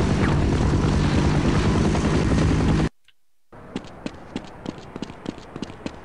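A helicopter in Half-Life roars with loud, dense rotor and engine noise, cuts to silence briefly, then returns as rhythmic thudding rotor beats at a lower level.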